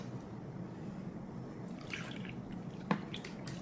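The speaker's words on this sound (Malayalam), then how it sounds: "ഇനി 1 കപ്പും കൂടെ വെള്ളം ഒഴിച്ചു കൊടുക്കാം നമുക്ക്" A cup of water is poured into a pot of fish curry, making a brief, soft splash and slosh up close over quiet background.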